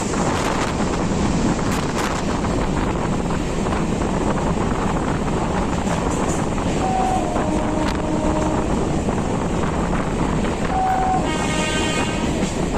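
A fast local train on the Sealdah line runs steadily on its rails, a loud continuous rumble and rattle of wheels and carriage with strong wind buffeting throughout, and short horn-like tones near the end.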